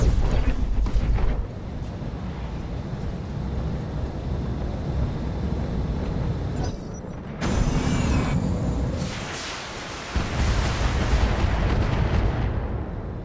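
Weapons fire in the BattleTech Advanced 3062 mech combat game: heavy, booming artillery-like blasts and roaring bursts come in loud waves with brief quieter gaps, over a rumbling background.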